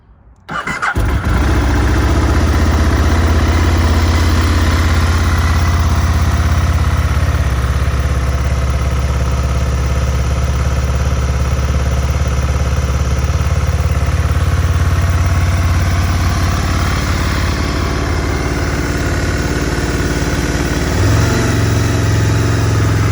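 A 1999 Aprilia RSV 1000 Mille motorcycle with 11,000 miles and the choke on cranks and fires within a second, then settles into a loud, steady, close idle that continues alone.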